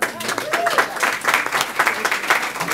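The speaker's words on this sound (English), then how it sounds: "Big round of applause." An audience at a city council meeting in Brawley claps, uneven clustered applause from a modest crowd, fairly close, with voices calling out over it.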